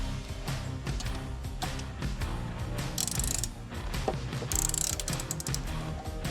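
Ratchet wrench tightening the bolts of an automotive skid plate, heard as loud, close, continuous rapid clicking with several sharper metallic bursts.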